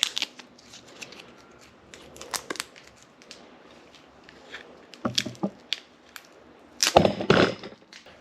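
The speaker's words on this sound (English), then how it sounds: "We're going to pull all that electrical tape off now and have a look at it" Electrical tape being pulled off a cracked, damaged steering wheel under repair: scattered crinkly rips and tearing bursts, close and fairly loud, with a stronger drawn-out peel near the end.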